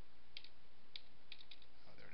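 A name being typed on a computer keyboard, heard as a handful of light, close key clicks in an uneven rhythm over a steady background hiss.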